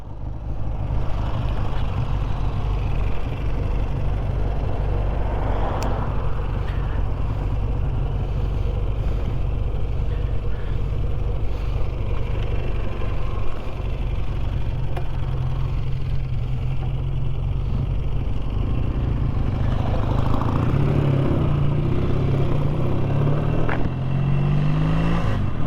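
Two BSA A10 650cc parallel twin motorcycles from 1958 and 1960 being ridden: a continuous loud, throbbing engine drone with steady low rumble, swelling as the throttle rises near the end.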